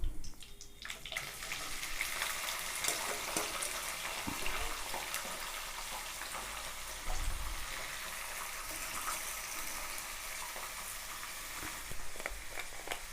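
Potatoes sizzle in hot oil with cumin seeds in a pan for Bengali vegetarian mochar ghonto, a steady broadband hiss with occasional crackles and soft clinks, close and continuous, no talking.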